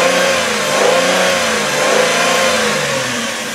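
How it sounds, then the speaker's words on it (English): White 2002 Chrysler Sebring LXi convertible engine revved up close, a loud smooth drone that rises and falls in two swells before easing back toward idle. "Let me rev it up for you so you can hear how the engine sounds"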